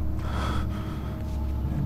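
Heavy, ragged breathing like panting from a character in the video game Amnesia: The Dark Descent, a few rough breaths in quick succession over a low background rumble.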